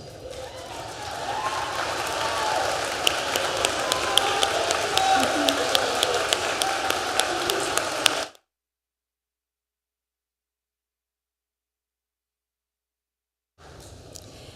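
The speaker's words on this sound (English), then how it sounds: "give yourselves a round of applause" Commencement crowd at a university ceremony applauding alumni, a steady wash of clapping and crowd noise lasting about eight seconds, then abrupt silence with a faint return at the end.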